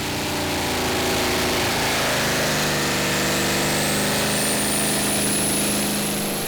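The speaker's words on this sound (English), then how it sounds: "Morten will have the honour of being the first tractor to pull on this brand new track" A pulling tractor starting a run on a new tractor-pulling track at a Danish championship round in Allingabro, a loud, dense, sustained engine roar with a rising whine, close and continuous, with no talking.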